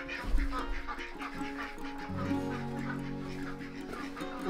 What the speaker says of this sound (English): Look at that drake right there.